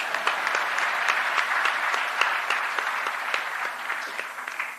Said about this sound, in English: Can you clap for engineers again?